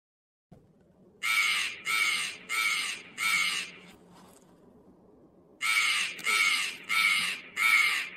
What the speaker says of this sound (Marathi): हा काव काव करून राहिला नाही काय